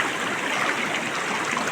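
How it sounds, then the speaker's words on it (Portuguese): A small waterfall at a campsite rushes in a constant, moderately loud watery hiss, briefly and alone with no voices. "só um pedacinho da cachoeira."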